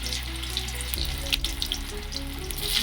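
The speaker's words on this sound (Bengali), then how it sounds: "আলুটা অল্প সিদ্ধ করে রেখেছিলাম এবার কড়ার মধ্যে তেলে দিচ্ছি তেলে ভেজে নেব লাল লাল করে" Parboiled potatoes frying in hot oil in a kadai wok, a steady close sizzle running evenly throughout with slight clatter of stirring.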